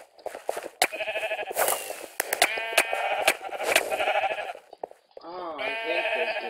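Sheep in the Minecraft game bleat again and again in a run of closely spaced, loud, nasal calls, with a higher-pitched bleat near the end and sharp clicks mixed in.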